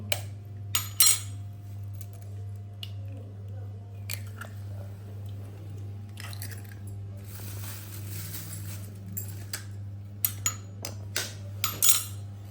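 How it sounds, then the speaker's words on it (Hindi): A utensil scrapes and clinks against a bowl as chicken marinade is mixed with eggs, with irregular wet stirring and clattering bursts over a steady low hum. "दो एग मैं इसके ऊपर डाल रही हूँ और अभी इन सब चीज़ों को अच्छे से मिक्स कर दूंगी।"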